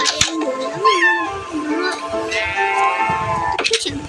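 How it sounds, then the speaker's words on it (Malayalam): A cat meows several times, some long and drawn out, with a person talking nearby in between the cries. "പൂച്ച ഉണ്ടല്ലോ."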